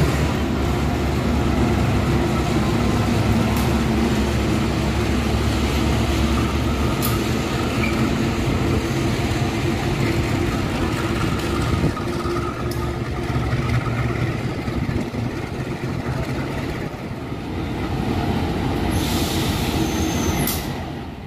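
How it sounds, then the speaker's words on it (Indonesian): A Kahuripan passenger train rumbles steadily through a shunting move at Blitar station, a loud continuous roll of wagons with occasional wheel squeals and clanks, no voices present. "kita tunggu langsiran kereta api Kahuripannya dulu dipersiapkan"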